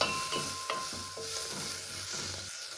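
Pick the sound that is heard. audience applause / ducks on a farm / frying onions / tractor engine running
frying onions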